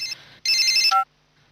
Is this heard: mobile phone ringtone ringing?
yes